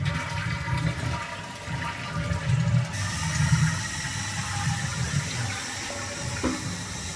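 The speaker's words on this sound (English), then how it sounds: "Let's check for leaks when we flush it." A toilet flushes after its faulty wax ring has been replaced, water rushing loudly and swirling down, then shifting into the hiss of the tank refilling, close and continuous with no talk.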